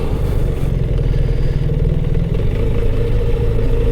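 BMW R1300 GS Adventure with its 145-horsepower engine, heard while riding: a steady, loud low-pitched engine drone with a faint clattering texture, continuous and close throughout.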